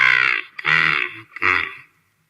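A crow in a children's story about a thirsty crow gives three loud, harsh caws in quick succession, close and clear with short gaps between them.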